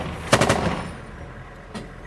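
Gunfire crackles during the battle for Mosul, with a quick burst of several sharp shots close together and one more distant shot about a second later.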